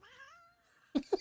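A house cat gives a short, drawn-out meow, followed by two quick, brief chirping vocal bursts, close and fairly quiet.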